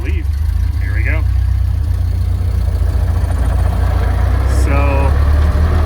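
A 1930 Ford Model A's engine, a three-speed with a heavy flywheel, rumbles loudly and steadily as the car pulls away in first gear, with brief voices and a squeak heard over the constant low drone.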